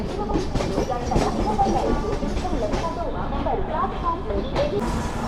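Passenger train pulling into Secunderabad Junction, a steady rolling rumble with clickety-clack of wheels and rail noise, loud and continuous throughout.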